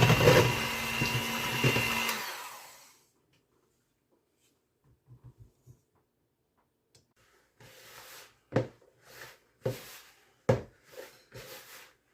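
An electric mixer whirs loudly through nut roll dough for about two seconds, then stops, followed by near silence and a series of sharp knocks and clatters.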